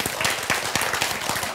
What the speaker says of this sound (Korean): 지금 박수가 많이 나오는데